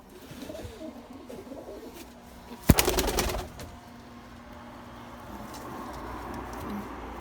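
A fantail pigeon cock coos softly in a breeding box, low rolling coos near the start and end, broken by a sudden loud clatter and rattle midway.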